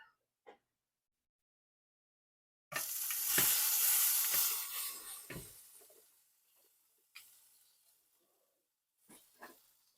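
Dinner sizzling and frying in a pan at home, a loud burst of hiss and crackle that gradually fades, then a few brief stirring scrapes and knocks toward the end, with no talking.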